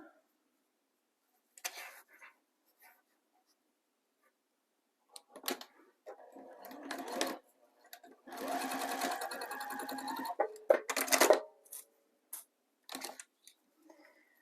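A sewing machine topstitches a zipper pouch in several short bursts separated by quiet pauses, the longest run near the middle, heard close up without talk.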